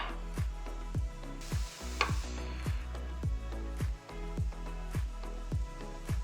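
Seaweed is stir-fried in a hot pan on high heat: a steady sizzle runs under regular scraping strokes of the utensil, roughly two per second, close and fairly loud.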